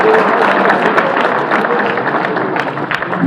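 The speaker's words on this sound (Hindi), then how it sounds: "जरा जोरदार तालियां शबीना अदीब के लिए आप लोग एक बार बजा दें" An audience applauds loudly at a Hindi kavi sammelan poetry recital held on a January 26 evening, dense continuous clapping filling the whole moment at close range.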